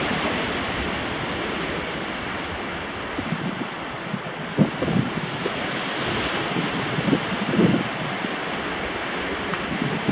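Sea waves wash steadily against a rock seawall at Sanur Beach, Bali, mixed with wind buffeting the microphone, with a few louder splashes in the middle.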